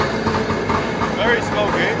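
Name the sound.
Superjet jet ski engine started and running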